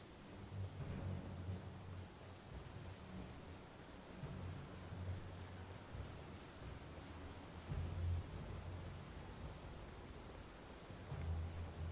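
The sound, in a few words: howling wind of a blizzard in the video game Elden Ring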